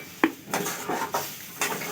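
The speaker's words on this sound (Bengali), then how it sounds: "এবারে ভালো করে অনবরত নাড়তে থাকবো, আর ছোলার ডালগুলোকে ভেজে নেব" Split chickpeas (chana dal) frying in a pan are stirred with a utensil, producing a sharp clink followed by repeated scraping strokes over a soft sizzle, close and fairly quiet.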